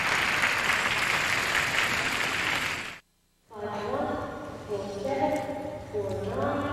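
Arena crowd applauding for Canadian figure skater Jennifer Robinson at a Four Continents competition, a dense wash of clapping that cuts out briefly, then returns under a commentator's voice.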